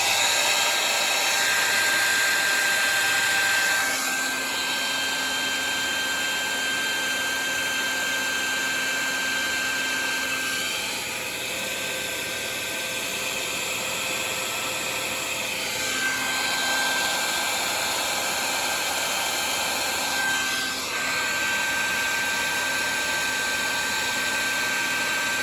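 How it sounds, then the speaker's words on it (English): Hair dryer used as a heat gun blows a steady, loud whirring roar while shrinking heat shrink tubing on fuel line wiring of an Allis Chalmers 175 tractor, its pitch wavering slightly as the airflow shifts during the half-minute run. "I've got my shrink gun right here, which is nothing but a hair dryer really"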